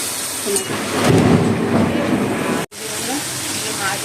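Boiled chickpeas and green chillies fry in a pan with a steady, loud, rain-like hiss and crackle, briefly cutting out for an instant midway.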